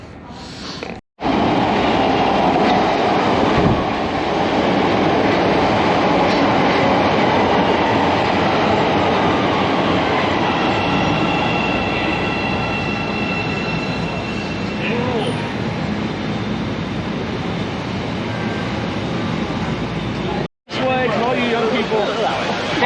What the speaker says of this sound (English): our next stop finds us down in the bowels of Chicago on the subway